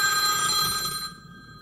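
A phone rings with an incoming call, a bright electronic ringtone tone sounding close and steady before cutting off abruptly, with no voices.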